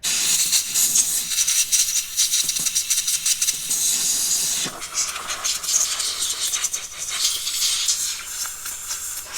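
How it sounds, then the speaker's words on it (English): Compressed air blasts metal flakes out of freshly bored holes in a transmission case during a reverse gear install, a loud steady hiss with rattling bursts that pauses briefly midway before resuming. "once we've got those holes bored out, we're going to use some compressed air."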